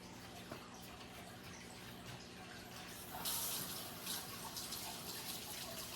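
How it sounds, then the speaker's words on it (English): A faint stream of water runs from a sink tap while dog cookie dough is rinsed off, with a stronger, louder flow and splashing in the second half. "just go over to the sink and rinse it."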